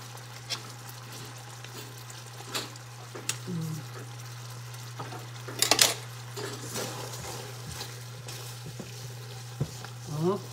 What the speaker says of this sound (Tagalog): Ito, gisahin ko lang ito mga kaibigan.